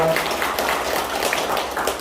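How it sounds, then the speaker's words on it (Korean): Audience clapping at a meeting of a Korean village-development council, moderately loud and fairly even through the short clip, with a few louder claps near the start. "박수 한번 드립니다"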